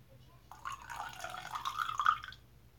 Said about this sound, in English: I'm going to take most of this bloom water, add it to my brush soaking warming water